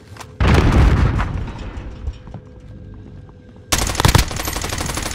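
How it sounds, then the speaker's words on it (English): A grenade blast and bursts of gunfire in Call of Duty: Warzone, a loud explosion followed by a fading tail and low rumble, then a second burst of rapid close shots near the end. "Oh, there's my grenade."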